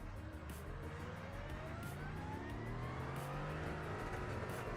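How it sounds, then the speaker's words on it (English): Mercedes AMG GT4 race car engine in the iRacing sim at the Roar Before The 24, a loud steady drone with rising revs and gear changes throughout, dense and continuous with no talk. "Yeah, engine's definitely louder now."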